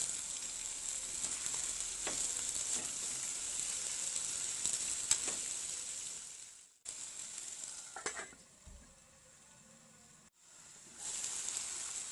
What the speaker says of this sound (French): J'ajoute de l'huile végétale, je les laisse cuire pendant environ 10 minutes sur feu moyen.